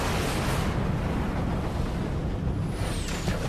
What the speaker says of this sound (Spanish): A las 11:20 se escucha la octava explosión.